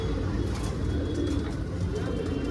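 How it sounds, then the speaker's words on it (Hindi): A Punjabi pigeon coos in a steady, low murmur close by, over a dense, noisy background. "ये दोस्तों एक पंजाबी कबूतर ही है"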